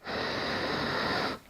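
A single audible ujjayi inhale through the nose, a soft hissing, slightly throaty breath drawn in for just over a second, close and quiet.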